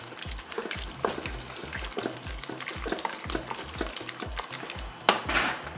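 Potatoes mixed with crème fraîche in a Cookeo multicooker pot, a steady run of soft scraping and clinking stir strokes close by, with a light sizzle and a sharper clatter near the end.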